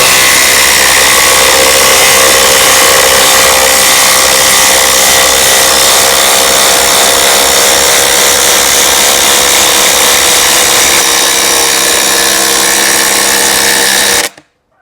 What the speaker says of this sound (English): We're going to put it up against the DeWALT DCF850, the fully charged power stack.